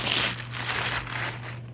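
A plastic bag of modelling clay is pulled open close by, a short run of soft crinkling and rustling plastic with no talking.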